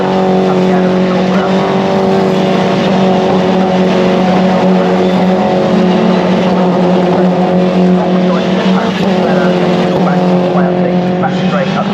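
Mini Challenge race cars roar around Snetterton circuit, a dense, loud, continuous blend of engines and tyre noise with a commentator talking throughout.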